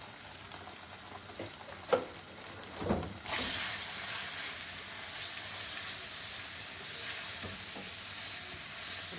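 Spiced food, seasoned with black pepper, cumin and salt, stirred and frying in a pan for a home breakfast, with a steady close sizzle that swells after a few scraping stirs and then carries on evenly.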